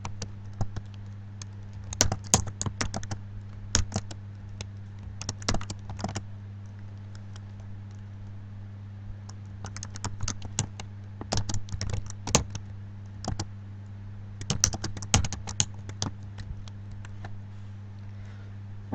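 Someone typing on a computer keyboard, scattered bursts of light key clicks over a steady low electrical hum, fairly quiet and with no voices.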